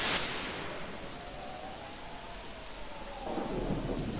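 A thunderstorm from the Pokemon Mystery Dungeon game opens with a loud thunderclap that rolls into steady, hissing rainfall, a bright surge of rain noise rising near the end, with no voices.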